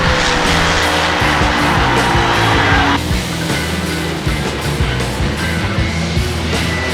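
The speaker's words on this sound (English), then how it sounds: "She got the chutes out, straightened the car out, and it is sliding on its side" Nitro funny car in a 1990s drag race, up on its side and sliding with the chutes out: a loud, continuous roar of engine and scraping tire noise that drops in brightness partway through.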